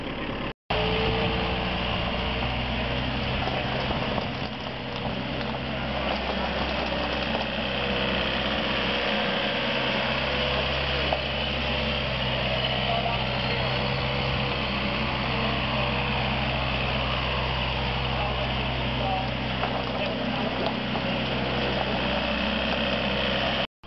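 A Wacker Neuson 280 wheel loader's engine runs steadily on a job site, a loud, continuous close-up drone with a broad hum that holds without pause for the whole stretch.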